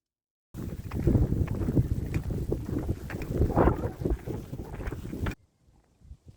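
Strong wind roars and buffets the microphone for several seconds in broadband gusts, then cuts off abruptly, leaving near silence.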